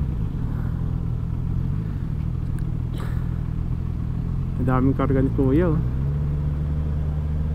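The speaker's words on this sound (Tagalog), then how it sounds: "Ayan o, ang traffic." Road traffic with cars and motorcycles idling and creeping along, a steady low engine rumble close by while someone talks over it.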